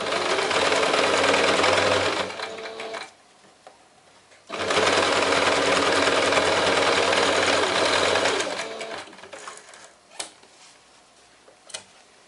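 A sewing machine stitches a straight seam in two long, loud, steady runs separated by a short pause, followed by a few faint clicks and handling sounds.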